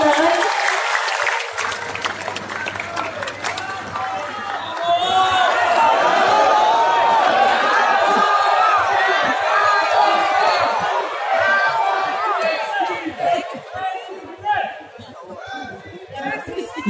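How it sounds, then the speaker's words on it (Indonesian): A large crowd at a gathering of a thousand national entrepreneurs welcomes presidential candidates Prabowo Subianto and Sandiaga Uno with applause, cheering and loud chatter, a dense sustained roar that swells and then thins with voices throughout. "Kita beri sambutan yang meriah dan tepuk tangan."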